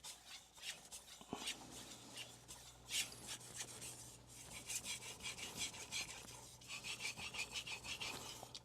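A Yoshimitsu Aogami knife is sharpened on a 9000 grit whetstone, making a soft, close rhythmic rasp of repeated strokes, faint and wet-sounding, with a low steady hum underneath.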